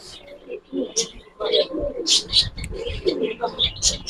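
Giribaz pigeons coo in a series of soft, low, rolling bursts close by, with people talking in the background.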